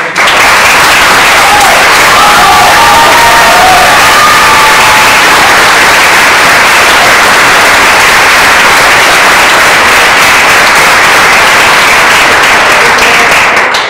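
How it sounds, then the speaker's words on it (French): A theatre audience gives a loud, sustained ovation for the stage director after a performance, thick continuous clapping with cheers and shouts rising through it for the full fourteen seconds. "demande une ovation, s'il vous plaît, pour notre metteur en scène, Monsieur Kaufmann"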